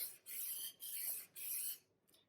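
A blade is drawn across a RockStar SD 480p sharpener in three quiet, even rasping strokes, with a fainter fourth scrape trailing off at the end.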